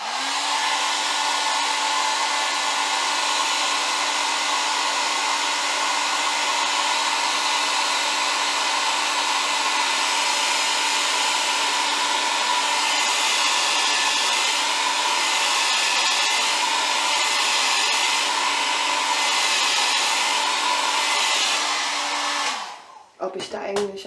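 A Brush and Curl hot air curling brush runs close and loud with a steady whooshing motor and airflow drone for over twenty seconds, then is switched off abruptly near the end.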